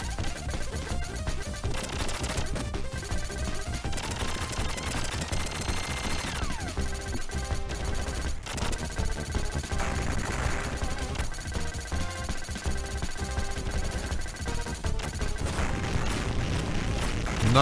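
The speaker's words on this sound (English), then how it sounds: "Nice shooting, Tex." Rapid, sustained gunfire in a video game pours out almost without pause, dense bursts layered over loud game sounds and booms, with faint speech mixed in.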